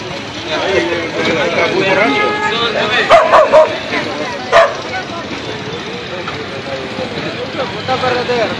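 A dog protecting its drunk owner barks and whimpers amid people talking in Spanish, with a few sharp yips standing out over the steady crowd chatter.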